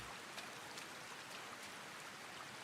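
Rain in a feudal Japan survival game during a dark nighttime rainstorm forms a dense, constant hiss like drops falling into water, steady and unbroken with no voices.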